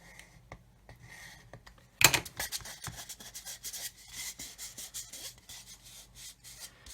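Scribing tool cutting panel line grooves into the plastic of a Revell 1/144 Apollo Saturn V model kit, quiet close-up scratchy strokes with a sharper burst at one point, then repeated soft rasping passes.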